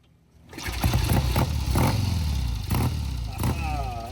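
A 1967 Triumph T120 Bonneville 649cc vintage motorcycle fires up after a quiet moment, then settles into a loud, close, throbbing idle with light mechanical clatter and a few blips of revving.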